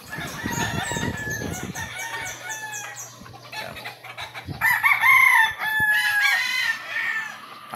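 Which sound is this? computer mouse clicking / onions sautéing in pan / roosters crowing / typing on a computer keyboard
roosters crowing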